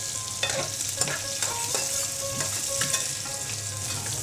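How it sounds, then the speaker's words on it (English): Finely chopped shallots fry and sizzle in a pan with South Indian spices, a steady hiss broken by repeated stirring scrapes and clicks, close and alone. "What I do is just add finely chopped shallots."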